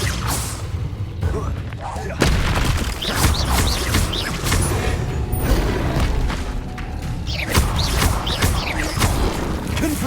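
Spell blasts thump and boom repeatedly amid whooshes and crashes in Hogwarts Legacy combat, loud and steady throughout, with a voice calling out spell names over the action.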